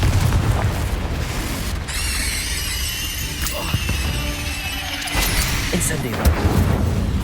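Confringo blasting spell going off in Hogwarts Legacy combat: heavy booming explosions and bursts layered with shimmering magical tones, loud and continuous over several seconds amid busy battle noise, with voices heard.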